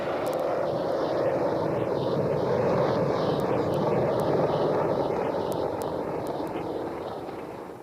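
An AH-64 Apache attack helicopter's engine and rotor thrum steadily and loudly overhead, with a rising and falling whine, gradually fading toward the end.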